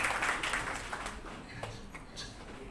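An audience at a Ghatkopar Brahmin community senior citizens' group dance-drama performance applauds, the clapping loudest at the start and thinning to scattered claps.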